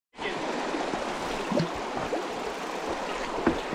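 Creek water rushing on a Santa Cruz mountain bike trail, a steady broad wash of flowing water close by with a few light splashes and knocks, no voices.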